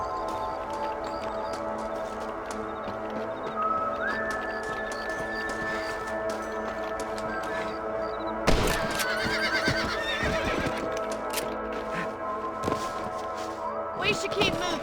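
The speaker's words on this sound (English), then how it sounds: "Let's get back on the horses" Horses neigh and whinny in the Red Dead Redemption video game, with scattered hoof clatter and a denser burst of galloping movement partway through, over steady ambient game sound and some voice activity.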